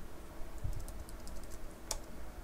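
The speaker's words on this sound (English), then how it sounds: "we are pressing the username and typing the password." Soft, irregular clicks of keys being pressed on a computer keyboard while typing a password at a Unix/Linux login, faint and close under a steady background hiss.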